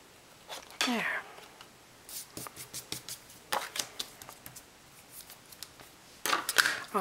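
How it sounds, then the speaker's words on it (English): Scissors snip ribbon on a handmade card in short, crisp cuts, with scattered light paper rustles and a quick burst of snips near the end, close and quiet without speech. "once it's on my card, I give it the cut just so that I can keep that nice clean edge"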